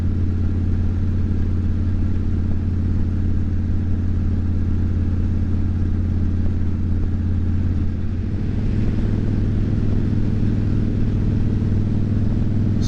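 A motorcycle engine drones steadily and loudly while riding at night, a constant low hum with a slight shift in pitch partway through and no pauses.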